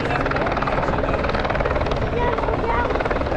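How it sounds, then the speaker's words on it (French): Helicopter circling above the MotoGP circuit at Austin on sprint race day, a loud, steady rotor thrum and engine drone filling the whole clip, with voices faintly mixed underneath. "Là, il y a l'hélico qui tourne."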